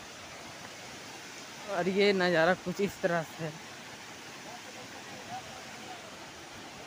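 Hundru Falls roars as a steady, broad wash of rushing water heard from nearby, while someone speaks briefly over it.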